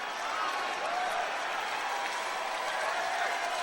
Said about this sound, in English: That's got the crowd stirred.